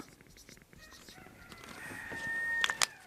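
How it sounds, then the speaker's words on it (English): A rooster crows from a distance, a thin drawn-out call that rises toward the end over soft background rustle and low voices. "Rooster really agrees."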